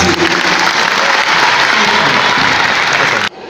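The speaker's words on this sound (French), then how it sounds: "Applaudissez très fort pour l'équipe." Dense, loud applause from the audience at a regional Injaz Al-Maghrib youth competition in Agadir, sustained steadily for over three seconds before cutting off abruptly near the end.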